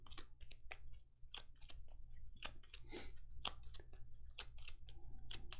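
Deck of cards being shuffled for a Gloomhaven Jaws of the Lion board game, a quiet run of crisp riffling and card snaps in quick bursts, close by against a low steady hum.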